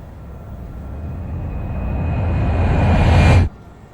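Train ambience used as a sound effect in a remix intro, a low rumbling roar that swells steadily louder with a faint high whine over it, then cuts off abruptly near the end.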